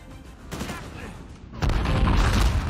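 A thrown red explosive barrel detonates in Uncharted 4, a sudden loud burst that leaves a dense, sustained roar of blast and debris after a quieter stretch of game noise.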